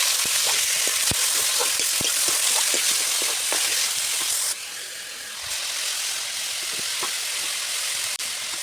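Chopped onion and green chili frying in a pan for a potato and green tomato fish curry, a loud continuous sizzle and hiss studded with sharp spattering pops that softens partway through, with no talk.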